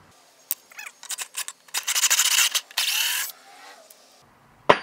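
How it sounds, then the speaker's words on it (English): Bursts of high-pitched drilling and grinding into steel, enlarging a hole, several short runs then longer sustained passes, close and loud, with brief pauses between. "first thing I'm going to do is drill this hole just a little bit bigger"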